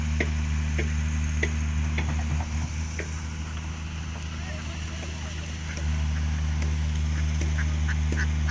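Ducks on an island backwater, with faint quacks scattered over a steady low engine drone from a nearby boat, heard from a little distance rather than up close.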